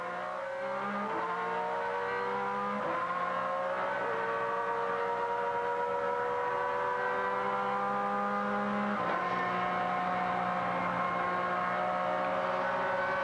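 Onboard race car engine at Sahlen's Sports Car Grand Prix in the 2003 Grand American Rolex Sports Car Series, loud and continuous, pitch climbing through gears with abrupt drops at each upshift, no talk.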